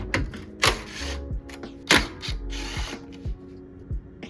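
Ratchet wrench turning out 10 mm bolts holding the coolant reservoir on a Toyota RAV4 2.4L, a close series of sharp mechanical clicks and bursts of ratcheting with short pauses between, no talk.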